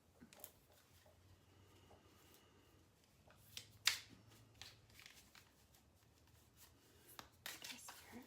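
Tarot cards from a shadow deck being shuffled, soft riffling and flicking in short bursts with a few sharp snaps, fairly quiet with a low background hum.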